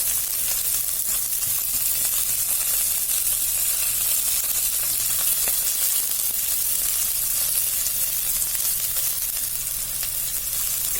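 Steady, dense sizzling of vegetables frying in a hot pan for dal, continuous and fairly loud throughout with no voices.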